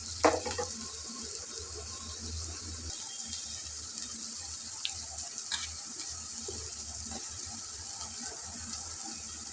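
Onions sizzle steadily in hot oil in a pan for a raw mango curry, a continuous close frying hiss with a few soft stirring clinks near the start.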